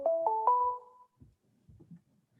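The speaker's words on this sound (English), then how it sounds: "Oops, I think that's my phone, sorry." A phone ringtone plays three rising chiming notes close by, then cuts off, leaving faint rustling and soft sounds.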